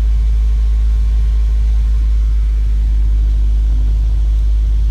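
A Mazda 3 engine idles with a deep, heavy low rumble and steady droning vibration from a worn side motor mount, loud and close, with no voices.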